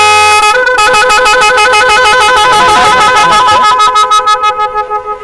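Loud electric horn of a new four-wheel automatic paddy threshing machine with steering, blaring as one sustained tone and then stuttering into rapid repeated beeps that fade toward the end.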